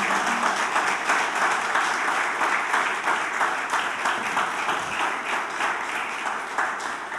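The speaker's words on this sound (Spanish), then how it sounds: "Dale un aplauso al Señor" A church congregation applauding, a dense, sustained wash of clapping that fills the room evenly from start to finish with no talk over it.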